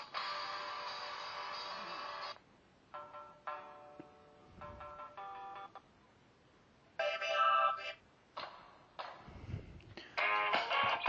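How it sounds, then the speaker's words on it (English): Preloaded music plays from the small speaker of an Andy pad tablet: thin, tinny tones come in several separate phrases broken by short pauses, quiet and electronic. "And it comes preset with some music."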